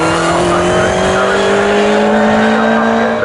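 Swinging Sixties race cars at Snetterton circuit, including a TBR Tuscan, roar past close and loud, engines droning at high revs with pitch sliding slightly as they go by, no voices.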